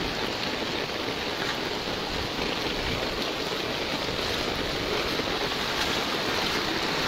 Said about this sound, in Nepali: यस्तो छ समुद्र। नेपालमा समुद्र बगिरहेछ।